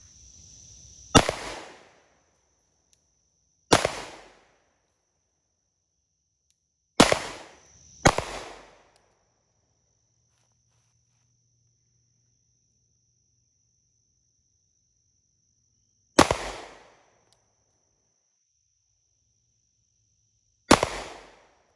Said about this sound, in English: you're shooting, you know, a 9mm through a 9mm hole